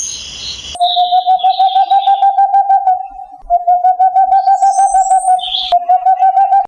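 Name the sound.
tawny owl call, Strix aluco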